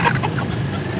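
Chickens at a pet market clucking loudly and close by in a short burst.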